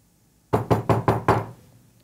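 Five sharp knocks on a straw house door in a Three Little Pigs story, evenly spaced and loud, with no talk over them.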